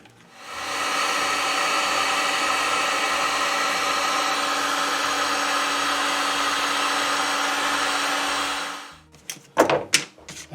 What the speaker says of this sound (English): Now I got my heat gun out. I'm going to heat shrink this tubing on these joints that I made.